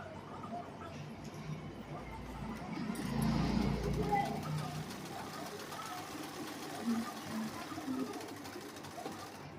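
A sewing machine runs a line of stitching on a blouse, a steady mechanical whir at moderate level across the clip with a slightly louder burst in the middle, under light background noise.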